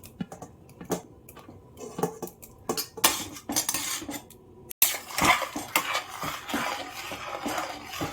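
Clinking metal and dish sounds, a spoon scraping and tapping against a pot in irregular bursts, with soft splashes as rice dumpling balls drop into boiling liquid.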